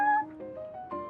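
A cat in the Genshin Impact video game gives a short, soft meow with a couple of wavering tonal calls, close and quiet.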